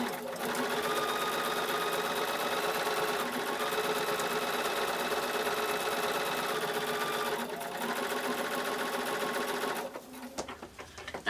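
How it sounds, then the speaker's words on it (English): A sewing machine runs steadily for about ten seconds, chain-piecing felt pumpkin parts in a continuous whirring hum, close and even, before stopping and leaving a few light handling clicks. "put the second half set together and stitch these"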